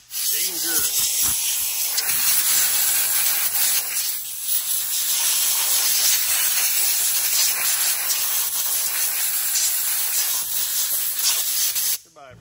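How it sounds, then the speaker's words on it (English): Aerosol brake cleaner sprayed onto a car battery in a repair shop on a Lexus RX350, a loud continuous hiss running nearly the whole time with a brief dip before cutting off abruptly at the end. "not supposed to just brake clean on batteries"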